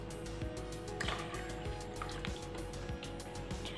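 Water is poured into a glass of mint lemon sharbat, giving a liquid splashing and filling sound with small drips and clinks, close and fairly steady.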